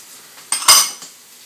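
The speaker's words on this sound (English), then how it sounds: "you put them right in here, and you stir it all up" A metal utensil clinks and scrapes against a pan while stirring spices into ground turkey, a couple of sharp close knocks in a short burst, otherwise quiet.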